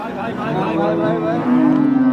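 A small black Jersey dairy cow at a cattle market lets out a close, loud, drawn-out moo that swells toward the end.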